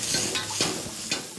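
Onions, green onions, carrots, jalapenos and garlic stir-frying in a wok, a steady sizzle broken by a few sharp scraping stirs of the spatula.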